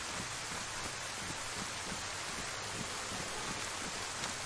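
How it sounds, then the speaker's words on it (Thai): Heavy rain in the DayZ game makes a dense, even wash of steady hiss, faint and unbroken, with no other sound standing out. "ฝนตกเยอะฝนตกเยอะหมอกลง"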